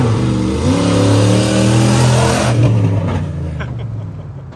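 A Dodge 1500 pickup truck revs hard with a loud, steady engine roar that rises in pitch, then drops away toward the end as it launches for a barn jump.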